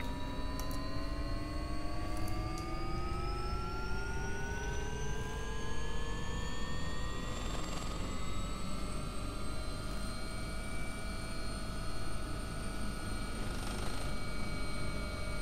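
AW-139 helicopter engines and rotor spool up in a flight simulator, a steady turbine whine whose tones climb slowly in pitch over a low continuous rumble, even and unbroken with no talk.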